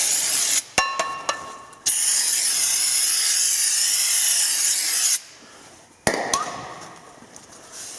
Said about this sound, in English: Some brake spray.